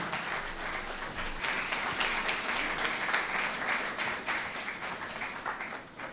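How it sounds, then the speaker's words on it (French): An audience at a live quiz challenge concert applauds a winning team, a sustained wash of clapping at moderate to soft level from a large room. "Il faut les applaudir."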